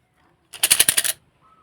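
A brief burst of rapid wooden clattering as Thai fortune sticks (siam si) are shaken in a cup, lasting about half a second against near silence.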